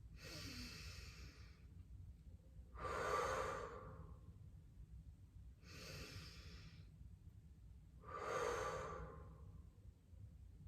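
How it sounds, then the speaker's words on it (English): Yoga breathing, two rounds of a deep breath drawn in through the nose followed by a long audible exhale, close and soft, alone without talk. "Big breath in through the nose. And exhale. 2 more breaths."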